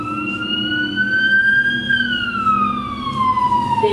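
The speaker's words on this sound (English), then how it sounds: "They had a fire. That's why the sirens are there." A fire engine siren wails loudly and steadily, its pitch sliding slowly up and then down as the vehicle passes close by, with no voices over it.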